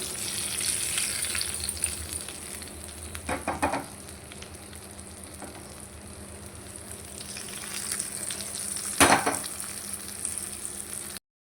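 Steady sizzle of hot oil tempering poured into a tomato dish, continuous faint crackling with a couple of louder clinks and stirring sounds.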